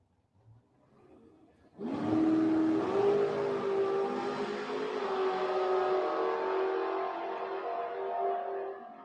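Dragster F214 launches off the line at a drag race against car 2211, a loud engine roar bursting in after a brief idle and holding a sustained, rising howl as it pulls away.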